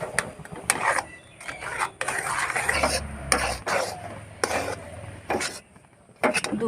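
Semolina cooked down with milk and a pinch of salt is stirred in a pan, giving a series of rhythmic scraping and rubbing strokes, close and moderately loud, with short pauses between them.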